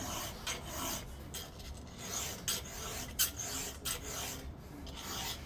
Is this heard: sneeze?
no